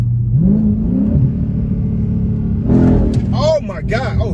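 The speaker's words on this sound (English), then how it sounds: "do you hear that exhaust?" A car engine revs loudly, its exhaust roaring up and down in pitch, with a person shouting excitedly over it toward the end.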